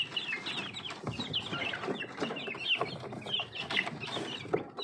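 Bangkok chickens on a small farm cluck and chatter continuously at close range, several birds overlapping in busy, uneven calls.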